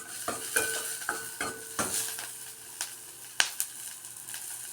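Onion, garlic and ginger sautéing in a pan for pancit with sardines, a soft sizzle under repeated sharp clicks and scrapes of stirring, close and fairly quiet.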